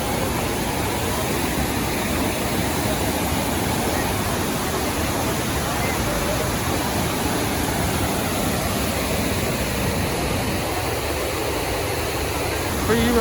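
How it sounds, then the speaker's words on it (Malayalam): Water rushes steadily over rocks at Vazhachal waterfall in Kerala, a dense, continuous roar filling the whole stretch at close range, with faint voices briefly under it near the end. "ഇതാണ് വാഴച്ചാൽ വാട്ടർഫാൾ"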